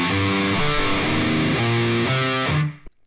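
Heavily distorted electric guitar plays an opening interlude section, a dense, sustained wall of tone with shifting low notes that cuts off abruptly near the end.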